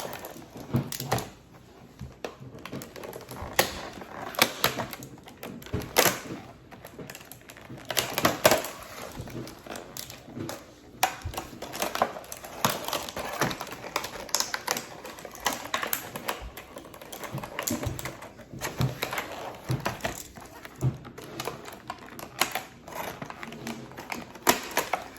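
Continuous crinkly cutting and tearing of packaging, with scratchy rustles and sharp snips close up, steady throughout with no talking.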